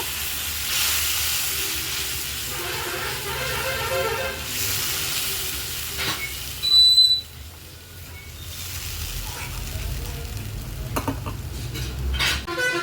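Spices fry in hot oil in a pan with a continuous soft sizzle, broken up by occasional stirring scrapes and a few sharp utensil clinks, fairly close and moderately quiet.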